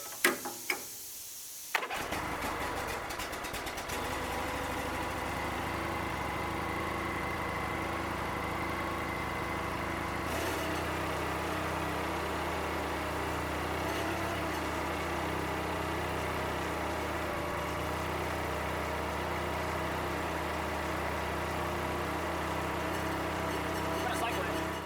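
A small engine on a wood splitter starts with a few sharp bursts, then settles into a steady, droning idle nearby for the rest of the stretch, while a voice talks faintly over it.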